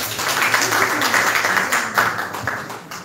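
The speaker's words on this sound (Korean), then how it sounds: "큰 박수 부탁드립니다" Audience at a Korean award ceremony and talk event applauding, a brief burst of dense clapping from a seated crowd, moderately loud and steady.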